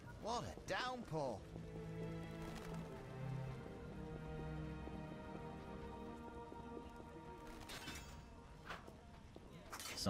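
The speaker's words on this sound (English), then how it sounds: "What a downpour!" Heavy downpour in the video game Witcher 1 (Rise of the White Wolf mod): a steady wash of rain runs throughout the scene, with people talking over it and a few louder sounds near the start and end.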